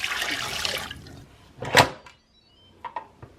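Water poured from a cup into a pot, a short bright splashing burst in the middle of the clip after a softer rushing sound, followed by a few small clinks and quiet handling noises.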